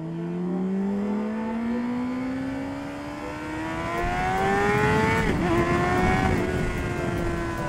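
Honda CBR 600RR motorcycle engine revving up hard as the rider accelerates through a gap in traffic, pitch climbing steadily, a brief shift dip, then pulling higher again, loud and close throughout.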